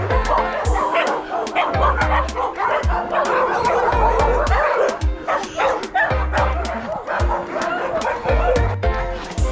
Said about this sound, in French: C'est juste un problème, le chien.